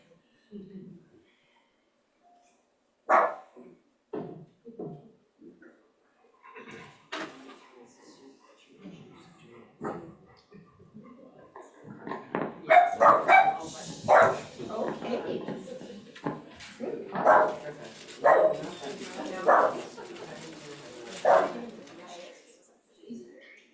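A dog barks in scattered sharp bursts, sparse at first and then in a quicker run, with people talking faintly in the background.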